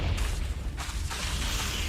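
Confringo explosive spell cast in the video game Hogwarts Legacy: a short, close booming burst with a broad noisy rush, swelling after a brief lull and holding loud for about a second.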